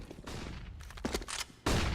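Bursts of P90 submachine gun fire in a Counter-Strike: Global Offensive match, several rapid volleys with short gaps and a loud final burst, sharp and close with no talking.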